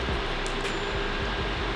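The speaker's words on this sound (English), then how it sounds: "that noise you hear is the vents" Kitchen exhaust vents running during cooking, a steady broadband whoosh of moving air held at a constant level with no talking.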